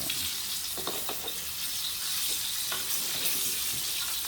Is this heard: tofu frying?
yes